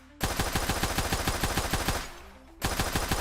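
Rapid automatic-sounding pistol fire in an Unreal Engine 4 game under development, a dense string of loud evenly spaced shots that pauses briefly for a reload before the burst resumes.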